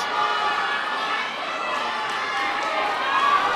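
A Cardiff crowd at a boxing match roars and cheers on a fighter landing big punches, a loud, steady wall of shouting voices that swells slightly toward the end.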